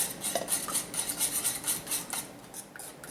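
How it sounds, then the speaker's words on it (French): Ingredients being mixed together in a bowl, a steady run of scraping, clinking utensil strokes against the bowl, fairly close and continuous with no talking. "je vais mélanger ça ensemble"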